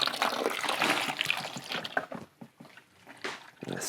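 Pure water from a Xero Pure Atom reverse osmosis filter trickles and splashes near and moderately loud, steady for about two seconds and then more broken and uneven.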